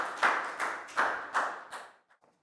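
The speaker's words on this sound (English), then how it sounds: "big round of applause for Net" A Year 4 classroom claps for a classmate in five distinct, rhythmic group claps, close and moderately loud, tapering off into a couple of faint final claps.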